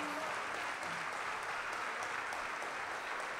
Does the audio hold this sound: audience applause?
yes